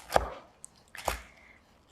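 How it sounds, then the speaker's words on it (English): A knife chopping crispy oven-cooked bacon into small bits on a board, two firm, close thuds with faint crackles and a light tap between them. "So I'm just chopping this up into, little bacon bits."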